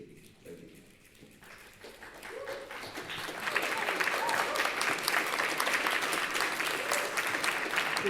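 Audience at a student government candidates forum breaking into applause, starting faint amid murmuring and swelling into loud, sustained clapping from a room full of people.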